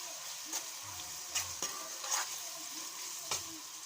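Wet fish-curry masala frying in a pan, giving a steady close sizzle broken by a few sharp stirring scrapes and spatula taps at irregular intervals.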